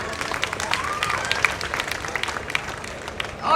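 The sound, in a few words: audience applauding dance performers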